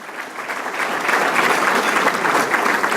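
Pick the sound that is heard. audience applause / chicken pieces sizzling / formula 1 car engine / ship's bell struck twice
audience applause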